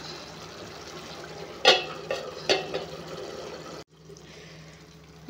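A no-vegetable curry side dish meant for chapati, rice or dosa gets stirred in a pan before simmering, with a low sizzle and two or three clear spoon scrapes, then a quieter bubbling stretch.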